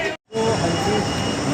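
A metro train rumbles through a station, a continuous mechanical hum and rattle with faint wheel squeal that breaks off for a moment before resuming.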